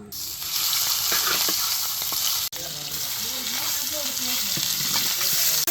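Food frying dry in oil on a tawa makes a loud, constant sizzling hiss, with occasional stirring knocks and faint talk underneath.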